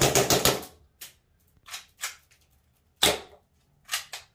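A nickel-finish Tokyo Marui Colt 1911 Series 70 airsoft gas pistol fires a series of sharp cracking shots, a quick burst at first, then single shots spaced out with silence between.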